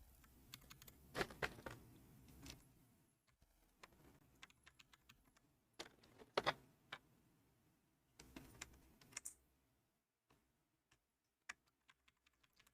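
Continuous typing on a Bedge65 mechanical keyboard with Matcha Latte switches: close, crisp clacks in irregular bursts, with louder flurries and brief pauses between, and no talking.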